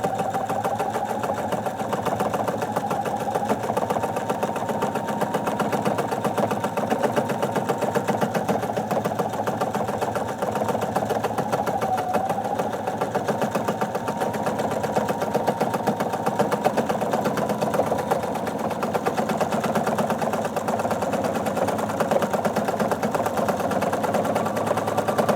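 A domestic sewing machine runs continuously during free-motion quilting, giving a loud, steady, fast-pulsing mechanical hum close by with no talk throughout.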